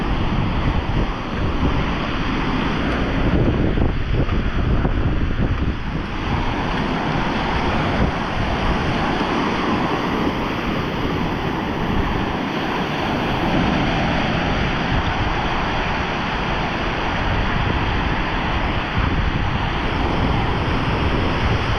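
Sea waves at the shore, a loud continuous roar of surf with heavy wind buffeting the microphone throughout, no voices.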